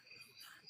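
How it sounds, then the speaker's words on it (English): A cricket chirps outdoors at night. Its thin, high trill is very faint and steady, with no talk over it. "I can hear the cricket"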